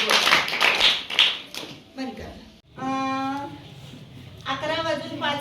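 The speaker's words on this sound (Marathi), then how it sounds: "आरिफसाठी टाळ्या वाजवा सगळेजण" A class of third-grade pupils claps for a student named Arif, with a short burst of brisk clapping first, followed by children's voices speaking in a sing-song way.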